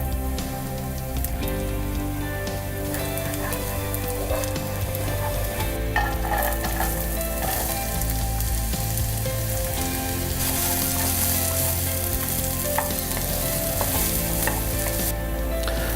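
Onions fry in a hot pan over a flame for pork tacos, a loud dense crackling sizzle that runs unbroken and stays close; no one speaks.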